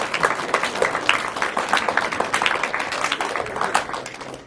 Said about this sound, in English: Everyone give these folks a round of applause